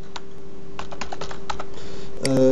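Keys on a computer keyboard are tapped in a quick irregular run while an email address is entered, close and crisp, ending with a short burst of brighter clicks.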